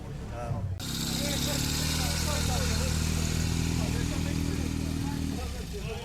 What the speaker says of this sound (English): This year, they even had these awesome Ural sidecar motorcycles